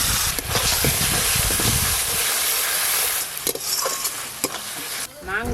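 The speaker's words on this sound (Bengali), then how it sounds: "অল্প একটু জল দিয়ে মশলা খুব ভালো করে কষে নেব।" Ground spices, chopped tomato and salt sizzle loudly while being sautéed and stirred in a pan with a little water, a steady close frying hiss with occasional scraping.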